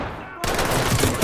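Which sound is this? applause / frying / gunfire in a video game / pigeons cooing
gunfire in a video game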